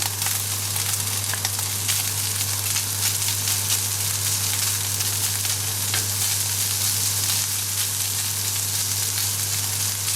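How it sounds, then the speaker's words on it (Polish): Steady, loud sizzling of sliced country sausage and onion frying in a pan, a continuous crackling hiss with a low hum underneath and no voices. "i smażę kilka minut, tak długo aż cebula się zeszkli"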